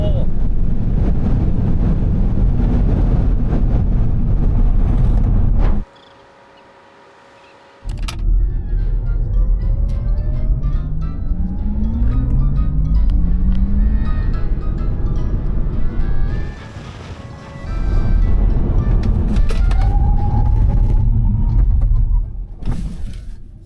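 MG4 XPOWER and Porsche Taycan 4S electric cars drag racing, heard as loud, steady wind roar with rising electric motor whines that sweep upward. The noise cuts out briefly in the middle, and excited voices sound over it.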